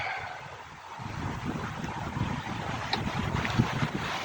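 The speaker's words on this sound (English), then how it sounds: "it's windy" Steady outdoor wind buffets the microphone in a continuous low roar, with gusts swelling and easing and no other sounds standing out.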